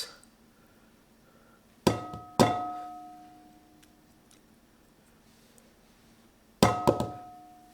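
A utensil is knocked against a hard edge to shake off cheese while making a keto Italian cheesecake: a quick pair of sharp metallic clacks with ringing tails, then after a pause another double knock, close and fairly crisp in a quiet room.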